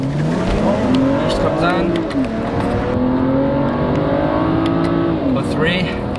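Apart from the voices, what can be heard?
BMW 335i Sport accelerating onto highway on-ramp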